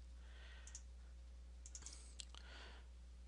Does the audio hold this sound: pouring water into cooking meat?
no